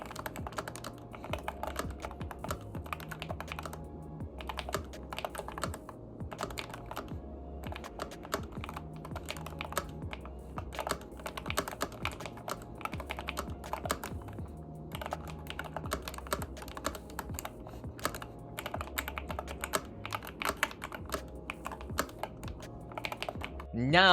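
Continuous clacky typing on a DrunkDeer A75 Ultra mechanical keyboard with its magnetic switches, dense irregular keystrokes close-up throughout, steady and unbroken with no speaking.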